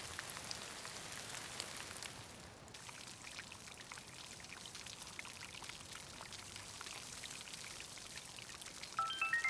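Water pours steadily onto potted plants in a soft, continuous trickle that runs the whole time without pause. No one speaks.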